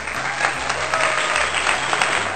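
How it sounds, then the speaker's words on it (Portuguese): Applause sound effect: a dense crowd clapping steadily and evenly at close range for the whole stretch, with no voices over it. "Esse aqui merece uma salva de palmas"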